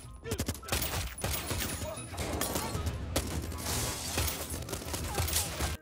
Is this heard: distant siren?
no